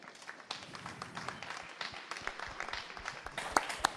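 Audience applause in an auditorium at a conference pavilion, a moderate, sustained patter of many hands clapping with a few sharper claps near the end.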